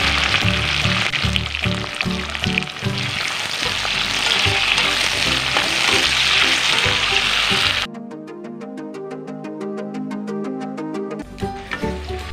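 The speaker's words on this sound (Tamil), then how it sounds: "வெங்காயம் வதங்கிருச்சு" Onions fry in oil with green chilies, curry leaves and cinnamon for pepper chicken, a busy, close crackling sizzle that cuts off partway through, leaving only music.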